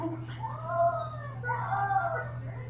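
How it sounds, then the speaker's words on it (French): A cat meows in protest at being put in water, a few drawn-out, wavering cries near the microphone over a steady background hum, with people talking around it. "C'est le chat qui fait ça, il a pas envie. Il aime pas l'eau."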